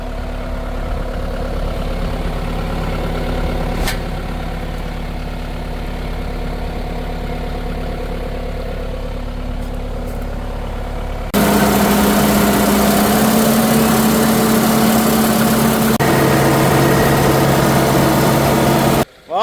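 A vehicle engine pulls a spinner spreader across a field, sowing rye for a cover-crop food plot. It makes a steady, close mechanical drone that grows louder and fuller partway through, with no talking.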